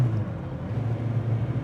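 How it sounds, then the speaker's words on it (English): A TVR Cerbera engine, tuned to over 400 horsepower, idles with a steady low rumble and a faint throb, close by and unaccompanied by talk. "this feels like another very special TVR engine"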